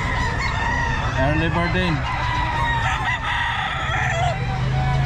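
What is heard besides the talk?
Kelso rooster crowing at pet market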